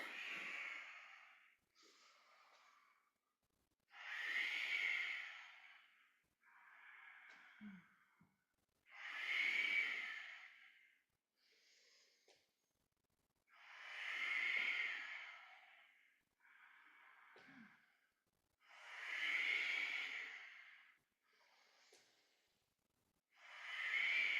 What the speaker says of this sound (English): We'll take Ujjayi with us into a revolving Ujjayi pranayama.